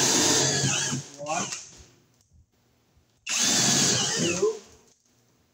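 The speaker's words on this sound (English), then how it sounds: "we'll drill the corners where we're going to cut the hole" A power drill bores the corners of a hole in a wood wall in two loud, steady bursts, each roughly a second long, split by a quiet pause while a person counts aloud.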